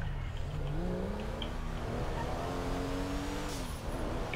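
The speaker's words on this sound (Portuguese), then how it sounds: "Agora eu vou deixar só o barulho do motor pra vocês aí." A tuned Chevrolet Opala in GTA 5 revs hard on a straight, its engine note climbing and shifting through gears in a continuous loud drone with no voices over it.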